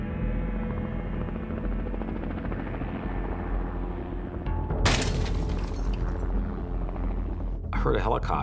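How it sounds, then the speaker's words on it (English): A tourist helicopter flies over Kilauea volcano. Its loud, steady rotor and engine drone fills the whole stretch, with a voice talking beneath it and a few sharp bursts near the end. "heard a helicopter."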